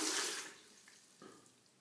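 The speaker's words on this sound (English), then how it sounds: "So I put water in now." Water is poured into raw vegan sorrel soup, a soft, brief splashing gush that fades quickly, followed by a faint trickle, heard close and quiet.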